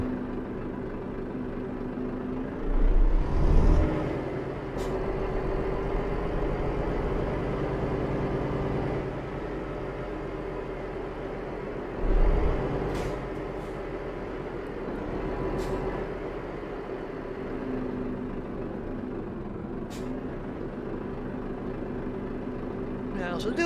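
A Volvo truck engine in Euro Truck Simulator 2 drones steadily for the whole stretch, with a few brief louder low bursts like air brakes or gear changes.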